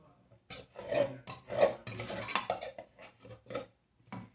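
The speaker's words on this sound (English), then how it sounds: "I'm just gonna mix that up one more time real good." A spoon scrapes and stirs sausage, onions, seasonings and flour in a pan, giving irregular gritty rasping strokes and metallic clinks, close and fairly quiet.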